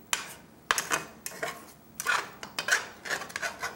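A small spatula scrapes and taps around a pan of frying eggs with mushrooms and onion, making close, irregular metallic strokes with brief pauses between them.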